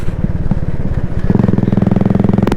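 A motorcycle being ridden on a first ride, its engine thrumming loud and close with a steady rapid pulse that deepens and strengthens midway, no voices over it.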